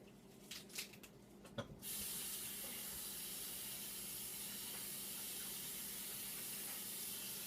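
Sandy vegetable leaves rinsed under running tap water, a few light clicks and handling noises at first, then a steady hiss of flowing water throughout.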